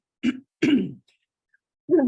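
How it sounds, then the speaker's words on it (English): Three short, throaty bursts of coughing or throat clearing, close by, separated by brief silences. "Coughing in everybody's ear."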